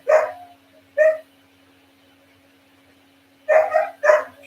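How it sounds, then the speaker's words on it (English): Guard dogs bark in a few sharp, loud bursts: two separate barks, then a quick cluster of barks after a short pause, over a steady low hum. "Good guard dogs. You can hear them barking in the background."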